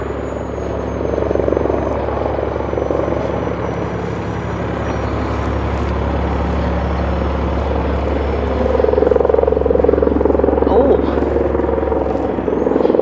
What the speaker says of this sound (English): Helicopter that's up there.